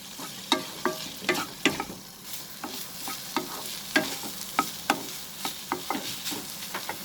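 Crumbled paneer mixed in a frying pan for paneer toast, heard as a rhythmic series of spatula scrapes and taps against the pan over a low, steady sizzle.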